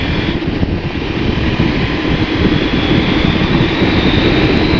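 A 2023 Husqvarna Norden 901 motorcycle rides along at mid revs, with a loud, steady engine drone, dense rumble and wind noise close to the rider and no pauses.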